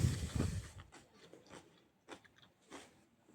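Someone chews crunchy homemade sauerkraut close to the microphone, giving soft, irregular crunching bites that start louder and then thin out into quieter, scattered chews.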